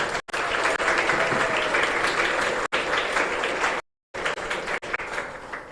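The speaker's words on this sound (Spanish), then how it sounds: "un fuerte aplauso para todos" A church congregation at Capilla Virgen del Rosario in San Antonio bursts into loud, sustained applause at the end of Mass, dense and continuous with a couple of brief breaks.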